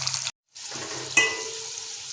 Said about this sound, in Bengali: এভাবে আমরা আলুগুলোকে লাল লাল করে ভাজা করে নেব।